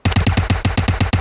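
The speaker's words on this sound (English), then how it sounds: "there's people shooting" Rapid automatic gunfire from a multiplayer shooter video game, about ten loud, evenly spaced bursts in quick succession with no talk over them.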